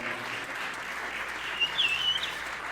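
Audience applauding for Jeff Hansen at the SG 101 Festival, a steady wash of clapping from a crowd with a few whistles near the end.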